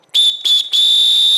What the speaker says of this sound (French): Il était nul, hein, mon sifflet de la fin